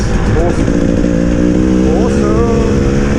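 A 2019 KTM 300 EXC TPI two-stroke dirt bike rides off road in the Fens, its engine droning loud and close with steady harmonic buzz and a brief rise in revs, with voices talking over it.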